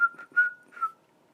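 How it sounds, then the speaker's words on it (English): A person whistles a short run of clear, close, pure notes, three or four quick bursts in a quiet room with no other sound. "I don't know why I whistled"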